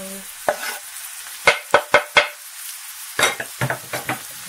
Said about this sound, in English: now I'm going to add these chopped up potatoes to the meat